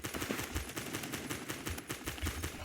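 Rapid semi-automatic fire from a 22 LR rifle (R1022) in the shooter game Phantom Forces, a quick run of sharp, evenly spaced cracks with little pause between shots.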